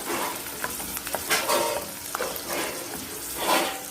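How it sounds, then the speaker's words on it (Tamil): Three green chillies sautéing in a pan for mint pickle, with steady sizzling and frying under repeated scraping strokes of a spoon stirring them, close and continuous with no talk. "இப்போ நம்ம 3 பச்சை மிளகாய் போட்டுக்கலாம். பச்சை மிளகாய் வதக்கிடுங்க."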